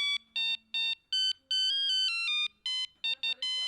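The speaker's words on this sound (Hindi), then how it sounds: "किस वक्त किसका फोन है?" An electronic ringtone chirps in quick repeated melodic bursts, loud and close, with short gaps between each phrase.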